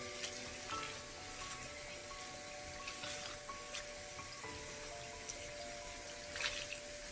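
Soapy makeup sponge rinsed under running water, a soft steady trickle and faint squelching drips, quiet and close throughout.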